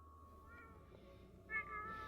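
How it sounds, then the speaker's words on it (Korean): A cat sitting on a dirt yard in the mountains lets out faint meows, a soft one early and a louder one near the end, against quiet outdoor background noise. "고양이 수리가 흙바닥에 가만히 앉아 여유를 즐긴다"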